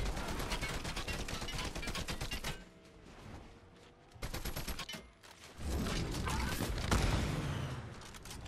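Enemy gunfire in a video game, with rapid automatic bursts that rattle loudly, break off into a quieter lull, then resume in dense, sustained volleys.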